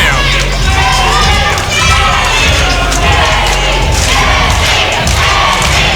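A loud wrestling arena crowd chants in rhythmic, shouted unison, with thuds and cheering throughout, very close and dense.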